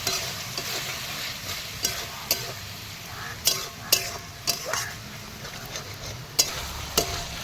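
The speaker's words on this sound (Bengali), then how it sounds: "এই আমার মশলা কষানো হয়ে গেছে" Bengali spice paste for a river aar fish curry sizzles and fries in a pan while a spoon stirs it, with steady close frying hiss and sharp, irregular scraping clinks of the utensil against the pan.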